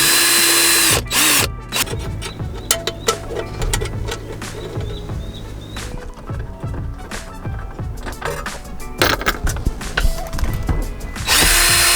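A power drill whirs in short loud bursts while removing a car stereo mounting bolt, with clicks and rattles between bursts and a longer run at the end, close up, with no speech.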